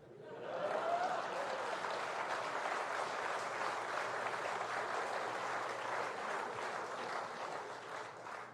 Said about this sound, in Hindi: लेकिन जब मैं कहूं तब ताली बजती है।